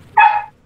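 A single short, clear dog bark, close and loud, standing alone against a quiet background.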